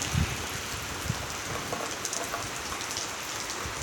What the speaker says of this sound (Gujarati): વરસાદ વધતો જ જાય છે.